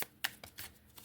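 A deck of fortune-telling cards is shuffled in a quick series of faint, crisp riffling bursts, several in about a second, with no voices.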